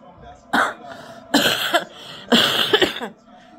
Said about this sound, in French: Comme vous voyez, je tousse encore.